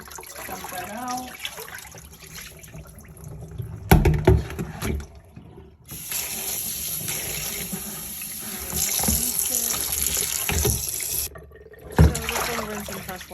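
Vinegar soaking water poured out of a container into a sink, bursts of splashing and gushing between quieter moments, with a sustained rush of running water in the middle, close and loud.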